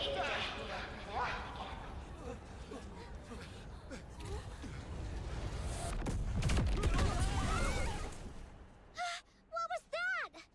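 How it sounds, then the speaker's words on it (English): A deep rumbling explosion in the video game DNA swells into a broad, loud burst midway through after quieter rustling movement, then fades as characters begin speaking. "Sounded like an explosion."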